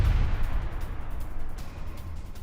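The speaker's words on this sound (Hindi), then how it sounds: "उसको फिर 2 टन विस्फोटक से दहला दिया इजराइल ने" A 2-ton explosive strike on a Hamas position in Gaza rolls out as a loud, deep, sustained rumble with a heavy low-end boom that slowly fades over a couple of seconds.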